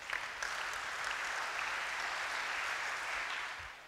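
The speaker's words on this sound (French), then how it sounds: "Acclamons le Seigneur." A church congregation applauds together, a steady wash of clapping that holds for several seconds and then fades toward the end.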